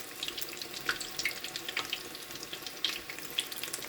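Pakoras crackling in hot oil, a steady bubbling fizz with scattered sharp pops and spits throughout, fairly close and moderately loud with no voices.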